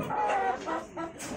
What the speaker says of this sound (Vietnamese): Gà rất nhiều, gà nuôi